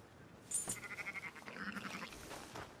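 Sheep in the video game Red Dead Redemption 2 give a wavering bleat, a clear pulsing call lasting over a second, followed by a second softer bleat against quiet ambient game sound.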